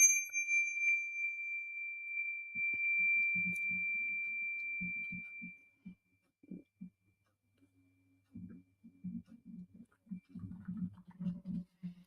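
A meditation bell rings once and its clear, steady tone lingers for several seconds before fading out. Soft speech follows in the quiet afterward.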